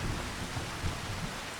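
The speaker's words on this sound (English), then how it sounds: "A rainy day on the day of planting season." Steady rain hisses on a rainy planting-season day in a farming game, soft and continuous with no other sounds.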